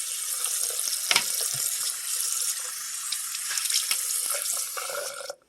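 Water runs steadily from a tap into a sink to soak an item during bathroom cleaning, a continuous close splashing hiss with small clinks, stopping abruptly at the end.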